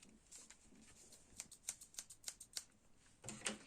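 Scissors snip through paper while a hand shape is cut out for a children's craft, a quick run of sharp, crisp clicks at close range, quiet and with no voice.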